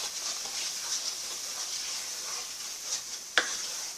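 A gumbo roux with paprika and vegetables is stirred in a pot, a steady close sizzling hiss with soft scraping and one sharp utensil tap near the end, no voices.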